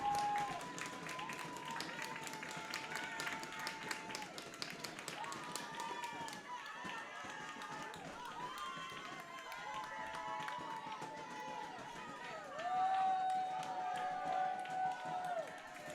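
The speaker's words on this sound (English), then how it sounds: "What a great crowd here tonight." A lively crowd at a night-time boys high school soccer match, Durfee versus Bridgewater-Raynham, cheers and claps steadily throughout, swelling louder near the end, with an announcer talking over it.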